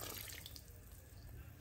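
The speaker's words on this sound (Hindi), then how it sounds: "देखिए इसे अच्छे से पकाने के बाद हम इसमें 1 गिलास भर के पानी डाल देते हैं।" Water from a filled glass pours into a pot of cooking mutton and curd for Hyderabadi mutton marag, a steady close splashing rush that runs the whole time with no talk.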